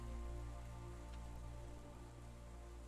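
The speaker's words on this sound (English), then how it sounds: "the rain slowly begins to fall" Steady ambient rain falls as a background effect in a fantasy tabletop role-playing session, a continuous even hiss of drops on a surface with no voices.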